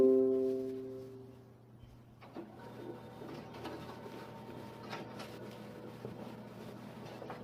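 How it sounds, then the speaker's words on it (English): A color printer runs through a multi-page job, starting with a steady tonal whir that drops out briefly, then settling into a continuous mechanical churn with small clicks and rattles at moderate, close level. "So as I'm printing"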